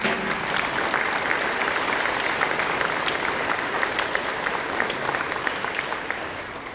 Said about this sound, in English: if you would please stand, we'll give you a round of applause